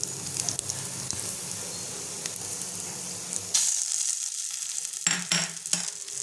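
Ground kharkol leaf paste fries with browned onions in a pan, a steady close sizzle that grows brighter midway, broken by a few sharp stirring scrapes.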